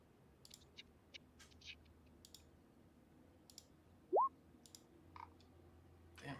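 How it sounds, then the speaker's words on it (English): Quiet, scattered mouse or keyboard clicks come in small bursts from behind, sparse and faint against a low room hum, with one short rising squeak partway through. "all I can hear behind me is just a fucking flurry of clicking"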